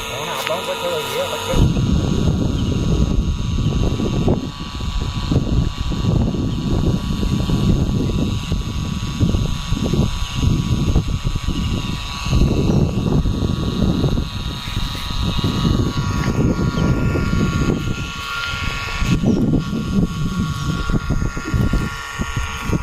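A motor pump runs steadily while draining a muddy pond in the Sundarbans, a loud continuous droning engine hum throughout with some irregular splashing texture.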